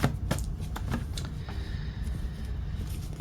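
Tarot cards being shuffled for the first time after sitting unused on a shelf, a dense papery riffling and flicking with a few sharper snaps early on, close and fairly soft with no talk.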